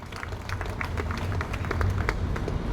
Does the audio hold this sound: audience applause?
yes